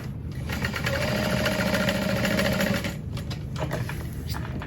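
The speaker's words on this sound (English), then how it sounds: "And backstitch a decent amount at the top, but don't go overboard." Sewing machine stitching fabric backpack panels together, a fast, close, continuous mechanical whir that runs for a few seconds, eases briefly, then resumes in shorter bursts.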